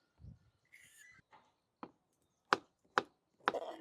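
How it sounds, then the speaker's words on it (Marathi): A knife cuts through peeled cucumber on a board, giving a handful of sharp, separate chops spaced irregularly, close and fairly quiet, with faint handling noises between them. "सर्वप्रथम आपण काकडी सोलून घेऊन कट करून घेऊ"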